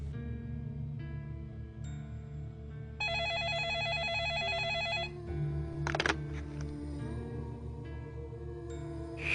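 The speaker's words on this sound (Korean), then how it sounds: "그렇게 2시간 후 중앙 데스크에서 전화가 걸려왔습니다." An office desk telephone ringing, a sound effect of repeated trilling electronic bursts over a low hum, with clicks and a sharp knock partway through.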